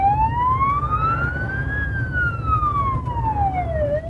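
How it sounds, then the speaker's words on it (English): A police car siren wails in slow rising and falling sweeps, fairly clear over a low engine drone, sustained throughout without a break. "you heard the siren, yes, because the police, the law, the fuzz"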